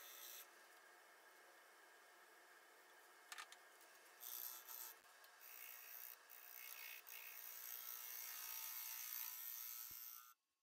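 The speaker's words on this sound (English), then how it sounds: "I'm using my square negative rake scraper to try and flatten this edge out." A square negative rake scraper smooths the rim of an aspen wood bowl spinning on a lathe, giving a steady, close scraping rub with a few brief louder bursts, no talk, until it stops abruptly near the end.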